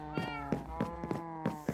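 Minecraft cats meow repeatedly in the game, a series of short, bright, close mews arriving in an uneven rhythm over a steady soft background.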